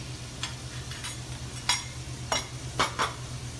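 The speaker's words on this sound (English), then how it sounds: "Next I put the mushrooms in, give them a chance to cook a little bit, saute." Mushrooms sautéing in a pan, with a steady low sizzle under a series of sharp scraping and stirring strokes from a utensil, several in quick succession toward the end.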